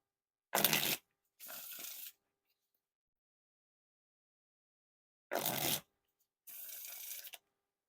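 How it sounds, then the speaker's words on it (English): Four quick riffle shuffles of an Ellusionist Teal King Slayer deck of playing cards, each a crisp fluttering burst, in two pairs separated by silence, close and clear. "And now time for the riffle shuffles or bridge shuffle."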